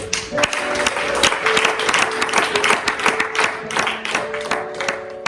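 A church congregation applauding, a dense, close burst of many hands clapping with uneven rhythm that carries on steadily for several seconds.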